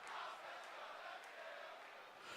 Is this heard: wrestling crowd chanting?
yes